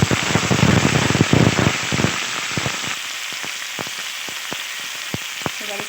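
Washed Gobindobhog rice and cashews dropped into hot oil in a pan, starting with a loud rattling sizzle that settles into a softer crackle with scattered stirring clicks, close and without talk.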